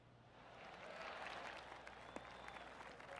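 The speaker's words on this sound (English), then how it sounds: "I can hear the golf claps around the course" Steady applause from a spread-out golf-course crowd, many hands clapping at once, sustained and fairly loud, with a slightly distant, open-air feel.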